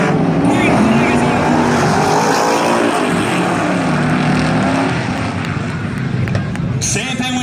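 Modified race cars on a dirt oval track roar together in a continuous, loud engine drone that rises and falls as they pass, heard under fast announcer commentary with a crowd-like wash behind.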